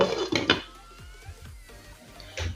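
Metal pot and lid clanks with cutlery clinks as a pot of boiling milk is covered on a low gas flame, a few sharp knocks near the start followed by softer rattles and a final clatter.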